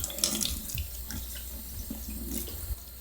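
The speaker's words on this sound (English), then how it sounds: "you just basically stir it around and rinse it through a strainer until it starts coming out clear" A kitchen tap runs steadily while sushi rice is rinsed in a strainer, with close continuous splashing and a few brighter spatters, no talk.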